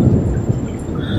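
Rain falls during a thunderstorm near a flooded riverside path, a loud low rumble and steady wash of water filling the short stretch without pause.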